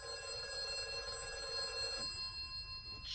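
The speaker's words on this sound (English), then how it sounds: "The phone rang at 6:30." Telephone bell ringing as a radio drama sound effect, a steady continuous electric ring that stops partway through, leaving a faint hiss, with no voices.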